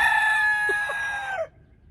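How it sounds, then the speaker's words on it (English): A rooster crows once, close and loud, its long call trailing off abruptly into quiet. "The roosters are having a crowing contest."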